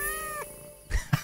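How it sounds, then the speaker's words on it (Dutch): A cat meows in the video game Thief Simulator 2, with one short, fairly close meow near the end of the clip over a quiet game background. "Ik dacht, ik hoor hele tijd hoor ik een kat."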